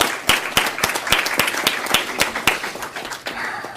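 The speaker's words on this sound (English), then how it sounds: "I'd like to give them a big round of applause for doing that" Board meeting audience applauds teachers with steady mixed clapping, a few sharp claps standing out over a dense patter that continues evenly before thinning slightly toward the end.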